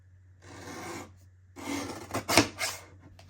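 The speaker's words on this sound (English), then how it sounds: "I'm going to use some cardstock and cut out 4 equal" Cardstock being cut into strips gives close, quiet rasping strokes: one longer cut, then a pause, then a cluster of shorter scraping snips.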